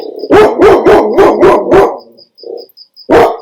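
A dog barks in a quick run of six loud, close barks, a short pause with a softer yelp, then one more sharp bark.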